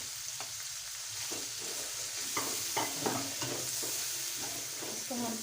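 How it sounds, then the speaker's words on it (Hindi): Chickpeas frying with tomato paste and spices while being stirred: a soft continuous sizzle under repeated scraping strokes of a spoon against the pan, close and fairly quiet. "इसको हम 1 से 2 मिनट अच्छी तरह फ्राई करेंगे"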